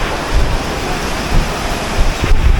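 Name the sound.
heavy rain and strong wind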